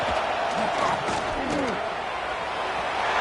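Dense football stadium crowd roaring continuously as the Mountaineers' opponent is pinned deep in its own end, a steady wall of massed voices with scattered shouts and slams rising over it.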